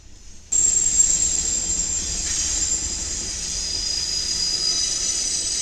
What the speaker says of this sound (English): we have a BNSF manifest, but check out what is on the trailing end of the train.